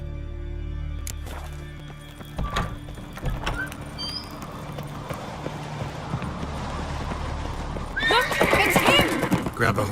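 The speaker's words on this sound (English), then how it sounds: "Grab a horse, we'll chase him down" A horse whinnies and its hooves clip-clop in Witcher 3, the neighs rising loud near the end over steady game ambience, with a voice speaking in between.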